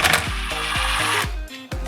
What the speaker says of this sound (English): we'll get our drill bit again with the T40 star bit and remove the 3 screws